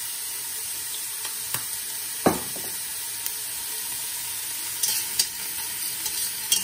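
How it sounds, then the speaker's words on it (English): Lamb fricassee with black pepper sizzles in a pan while a spoon stirs it, giving a steady close frying hiss broken by a few sharp scrapes and clinks of the spoon against the pan. "Give that a stir with a spoon."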